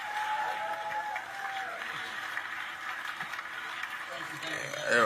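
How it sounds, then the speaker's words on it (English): A live studio audience applauds and cheers for a guest on an evening variety show, a steady wash of clapping that runs throughout beneath ongoing talk and swells again near the end. "Give him another round of applause"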